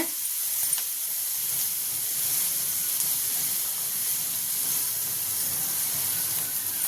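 Pav bread frying in butter in a pan over a medium flame, giving a steady, even sizzling hiss that holds at a constant level, with no talk.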